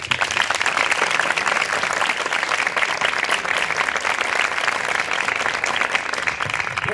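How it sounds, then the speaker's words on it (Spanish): Dense, continuous applause from a group at a closing ceremony, loud and steady from start to finish with no talking over it. "Un aplauso para todos"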